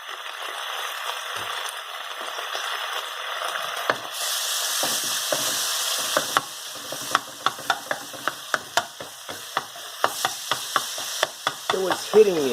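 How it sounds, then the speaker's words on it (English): Lamb stew with bean paste being stirred in a hot pan, a constant sizzle with a run of sharp rhythmic spoon knocks and scrapes against the pan, close and fairly loud, no talking. "I need to stir it a little bit."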